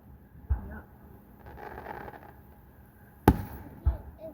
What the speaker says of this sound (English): Here's a Swizzler, Nana.